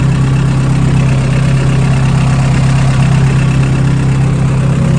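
A turbocharged Honda Integra GSR with a B18C1 engine, still on pump gas with a stock injector, idles steadily at close range with a constant low hum and fine mechanical vibration.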